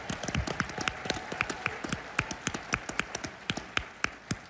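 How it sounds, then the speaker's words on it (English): Scattered audience applause at a conservative political conference, with sharp individual claps rising and falling in an uneven rhythm, fairly faint and thin rather than a full ovation. "Let's give them a round of applause."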